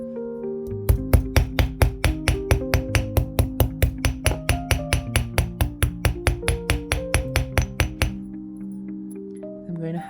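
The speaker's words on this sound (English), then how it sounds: "I'm going to hammer one side all the way down." Rapid metallic hammer strikes on copper wire ring out in a steady rhythm, about thirty sharp taps in a row, close and bright, then stop.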